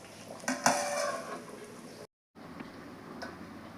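A metal pot lid clinks and scrapes as it is handled on a cooking pot, a few close clatters early and then a faint tap later, fairly quiet overall.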